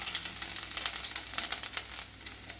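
Chopped garlic frying in hot oil with popping mustard seeds for Kerala-style beans thoran, a close, crackling sizzle with rapid spits and pops throughout, no voices.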